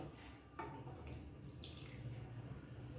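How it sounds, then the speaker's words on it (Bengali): Hot water pours into a cooking pot in a home kitchen, a soft, continuous splashing and trickling that stays faint and steady throughout. "এবার আমি পরিমাণ মতো জল দিয়ে দিচ্ছি"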